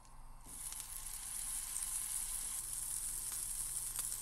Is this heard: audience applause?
no